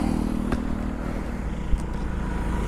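A KTM Duke 250 motorcycle with a braking-noise problem rides along, its engine a steady close drone with a brief clatter and a small knock partway through.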